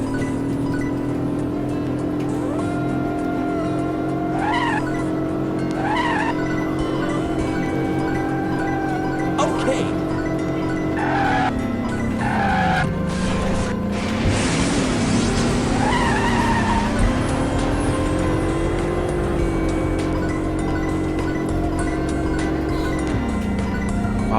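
Karts race in the KartRider Rush+ mobile game, with steady whining engine tones that rise and dip in pitch and a burst of tire skid noise midway through. The sound plays continuously at a strong level, with no talking.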